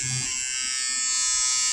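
A handheld electric stitch eraser buzzing steadily as it cuts out stitches, a continuous close electric-razor-like whine with no talking.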